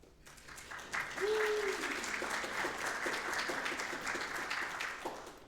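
Audience applause breaks out in a congregational church service and holds steady for several seconds, a dense and fairly loud clatter of many hands, with a brief voice rising over it near the start.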